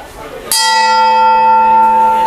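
A Gujarati bell-metal (kansa) utensil is struck once and rings out loud and close with a clear, long-sustained metallic tone that barely fades, following a quieter lead-in.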